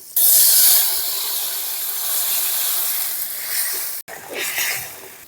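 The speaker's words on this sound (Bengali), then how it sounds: "আমগুলো ভাজা ভাজা হয়ে গেছে এরপর দিয়ে দিচ্ছি জল" A loud burst of hissing steam as water hits a hot pan of fried mango pieces, settling into a steady sizzle with a brief break near the end.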